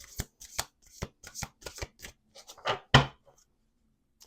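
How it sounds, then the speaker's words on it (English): Playing cards being shuffled at a table in a series of quick riffling bursts, loud and close, building to a sharper final snap and then trailing off into quiet. "Last shuffle. Last shuffle. Last shuffle."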